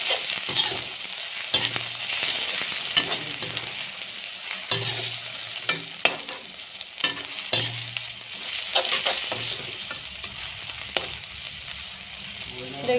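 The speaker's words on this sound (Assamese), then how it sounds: "এতিয়া আৰু অলপমান সময় চিমত লৈ ভাজি দিলোঁ।" Ginger garlic paste sizzles steadily in a hot pan with bay leaves for a chicken jalukiya recipe, broken by repeated scraping clinks as it is stirred, with no talk.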